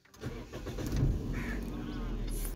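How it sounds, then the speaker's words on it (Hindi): A 2011 Toyota Corolla GLi engine cranks briefly and catches, then settles into a steady, low idle heard from close by with no talking. "गाड़ी को मैं कुछ स्टार्ट करता हूँ"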